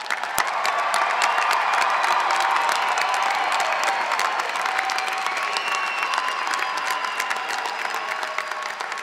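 A large audience at a December university commencement ceremony gives a sustained round of loud, even applause, with a faint cheer rising within the steady clapping.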